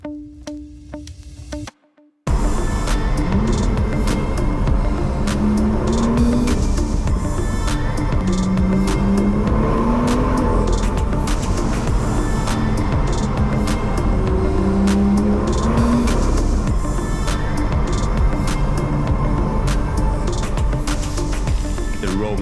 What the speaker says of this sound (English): the car sounded absolutely amazing in all of those tunnels